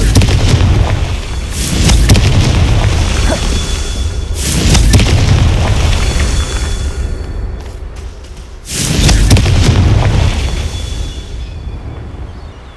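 Confringo fire spell explosions in the video game Hogwarts Legacy, two or three loud, deep booming blasts that swell and roll out with crackling debris, dense and close with no gaps of quiet.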